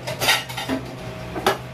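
A knife cuts a papaya, giving a few sharp clinks and taps against the board and dishes, with a short pause between the strikes.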